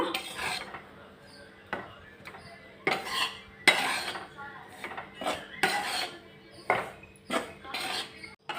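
Red chili powder is stirred and roasted in a pan on the stove, with a metal spoon scraping and clinking against the pan in repeated close, irregular strokes.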